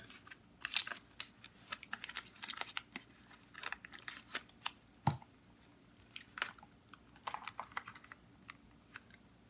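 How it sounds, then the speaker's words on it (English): Clear plastic tape being peeled from a cracked plastic gaming headset near the ear cup, producing a steady run of crackly, close-up tearing and crinkling noises with a few sharper snaps, heard alone. "I have a piece of tape here now temporarily. Let's take it off."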